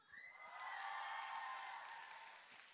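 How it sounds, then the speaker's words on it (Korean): Audience applause at a P1Harmony fan meeting, a steady wash of clapping that swells and holds for a few seconds before easing slightly, with a high sustained tone running underneath. "박수."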